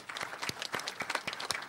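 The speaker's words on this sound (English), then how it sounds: "the applause that you give just now was not loud enough" Fairly quiet, scattered applause at a university inaugural lecture, with individual claps standing out in a loose, uneven rhythm from a small audience.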